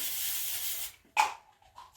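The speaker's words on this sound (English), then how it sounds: "take your non-stick spray" A steady, hissing spray of non-stick cooking spray into an air fryer lasts about a second, then stops, followed by a short clatter and a few faint rustling sounds.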